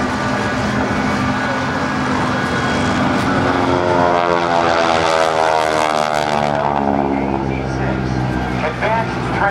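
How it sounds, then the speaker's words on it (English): A North American T-6 Texan propeller trainer drones loudly through a low camera pass at a Naval Air Station Oceana airshow, its engine note rising and falling steadily with a public-address announcer talking over it. "Get a good picture of this beautiful T-6 Texan."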